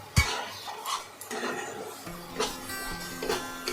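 A spoon scrapes and clinks in a pan while chicken bharta is stirred with garlic and chilli paste, producing intermittent metallic taps and scrapes, fairly close and moderately loud, with a faint voice in the background.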